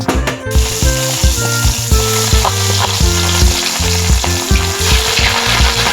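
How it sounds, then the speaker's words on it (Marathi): Paneer frying in a pan for a Malvani vegetable curry, a steady loud sizzle with stirring clatter throughout and no voices. "पनीर तळून घेते मी"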